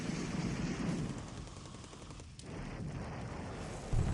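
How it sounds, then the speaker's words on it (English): A Japanese bombardment in the War in the Pacific video game, heard as continuous, dense rattling gunfire and rumbling blasts at a steady moderate level, with no talking. "That's a good bombardment by the Japanese."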